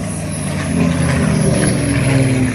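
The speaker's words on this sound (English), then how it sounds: "This aircraft is painted in the markings of number 77 Squadron, RAAF, Squadron Leader Schaff" A P-51 Mustang flying a display at an air show, its propeller engine a loud, steady droning roar that swells slightly partway through, heard close without talk.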